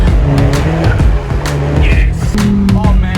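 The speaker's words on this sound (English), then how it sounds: "The first ever Mercedes-Benz electric car" An electric Mercedes-Benz EQC 400 drives on Australian roads, a steady loud hum and road rumble with brief squealing tires cutting in near the middle.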